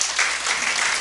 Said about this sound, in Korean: 주님께 박수로 하나님께 영광 돌립시다.